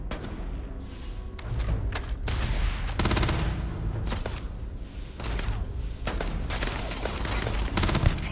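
Ballistic weapon fire in Starfield, with repeated loud shots and heavy thuds clustered in irregular bursts, close and forceful throughout.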